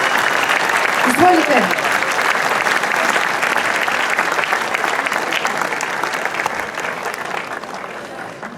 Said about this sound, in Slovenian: A ne dajmo en aplavz za gospoda Toplaka